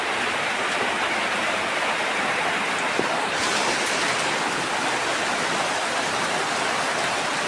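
Rain falls in a steady, dense hiss outdoors near a home, constant and fairly loud with no talk over it.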